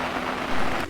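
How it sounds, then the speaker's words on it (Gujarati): Heavy rain pours at a cowshed, a dense, loud, unbroken roar of falling water for about a second. "વરસાદ બહરાટી બોલાવે છે"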